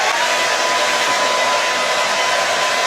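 A hair dryer blows steadily at close range, drying hair with a loud, constant whooshing roar and a thin whine running through it.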